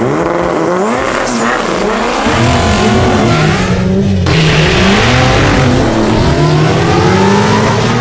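A 1993 Honda Civic EG hatchback drag car with a swapped engine making about 600 wheel horsepower revs loudly and continuously, its pitch sweeping up and down through repeated throttle blips, close and aggressive.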